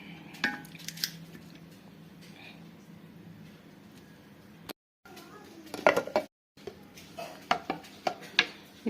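Soaked ingredients are washed in water in a pot by hand, with irregular splashes, drips and light clinks against the pot, close and fairly quiet with two brief silent gaps.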